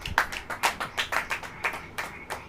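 A church congregation claps hands in a steady, regular rhythm of about a dozen sharp beats, close and fairly loud, with no voices over it.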